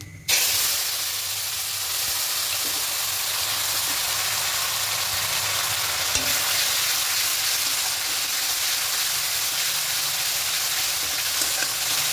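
Ground spice paste for vegetarian malai potol curry fries in a pan with a loud, steady sizzling hiss that continues unbroken throughout.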